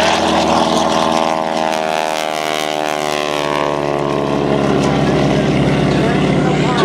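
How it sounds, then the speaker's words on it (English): A propeller-driven military warbird, a T-6 Texan trainer, takes off at an air show, its loud radial engine roaring steadily with a dense harmonic drone throughout, close and continuous. "if you live next to a military training base, you would hear the sound of training as Jim Lavelle takes off in his"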